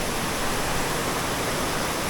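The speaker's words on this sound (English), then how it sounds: "we're now at the secret waterfall" Waterfall in the western Pennsylvania and New York countryside, a dense, unbroken roar of falling water, loud and even from start to finish with no voices over it.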